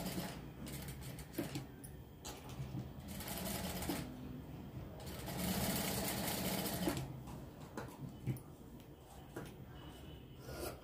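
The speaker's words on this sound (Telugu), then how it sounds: "ఈ వంపుల దగ్గర అంతా కుట్టు అనేది వేసేసుకోవాలి" A sewing machine stitches cloth around curved cut-work edges in bursts, its whirring mechanical drone starting and stopping several times, close by, with no speech.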